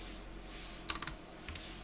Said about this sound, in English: go into the search bar and type in keyboard.